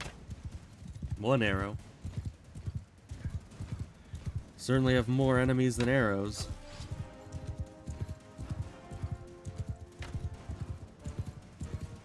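Horse hooves clip-clop rhythmically in Mount and Blade II: Bannerlord during a battle on a slow horse, steady beats throughout with someone talking over them and a couple of whinnies.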